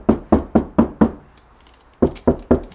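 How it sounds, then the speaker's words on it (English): Knuckle taps on the outside of a Range Rover L322 door skin: five evenly spaced, dull knocks, a short pause, then three more, each close and fairly dead-sounding. "if you listen as I tap the door skin from the outside"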